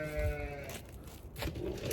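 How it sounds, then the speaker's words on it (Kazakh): Sheep bleat at a village farmyard pen, a wavering bleat up close at the start and further calls following, with steady background noise and no speech. "Маңырады да, жаңа дауыстар шықты."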